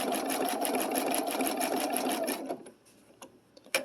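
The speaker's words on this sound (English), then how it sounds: "so I'm going to slow down the speed of my machine" A sewing machine stitching a blanket stitch for applique runs in a fast, steady close whir of rapid needle strokes, then stops, leaving a few quiet clicks and taps.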